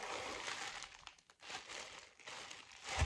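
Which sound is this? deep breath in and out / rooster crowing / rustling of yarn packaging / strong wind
rustling of yarn packaging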